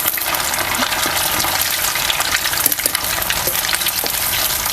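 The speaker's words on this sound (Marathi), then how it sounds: "असं आपल्याला पलटी करून करून ना सगळं चांगलंसं तळून घ्यायचं" A rava and potato snack fries in hot oil with a loud, continuous sizzle and bubbling, broken by occasional splashes as the pieces are turned.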